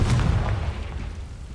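A Confringo explosive spell bursts in Hogwarts Legacy: one deep, booming blast at the start that rolls off into a fading low rumble, loud and alone without voices.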